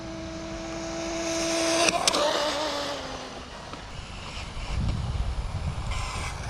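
A ZD Rally RC car fitted with a 24-tooth pinion runs on a speed pass. Its high electric motor whine climbs, then cuts off near two seconds, leaving a steady broadband rush of wind and tires, with a low rumble near the end.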